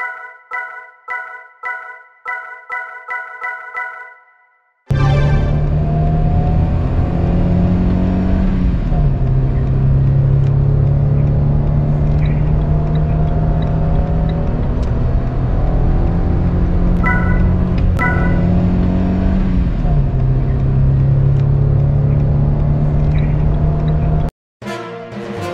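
A 2009 Renault Twingo 2 Authentique with a 1.2-litre 75 hp engine, heard from inside on the road: a few electronic chime beeps, then a steady loud engine drone rising and dropping through gear changes, with no talk.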